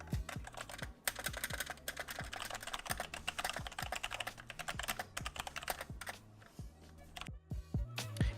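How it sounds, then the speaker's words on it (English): Rapid, steady typing on a Logitech G413 Carbon mechanical keyboard, with close, crisp key clacks in a dense continuous stream and no voices. "And this is what the keys actually sound like."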